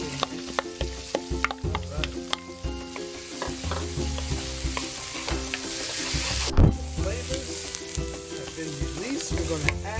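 Minced garlic and onion hit the pan used before for kingfish sarciado, setting off a loud, steady sizzle with busy stirring and scraping, and an occasional clack of the utensil.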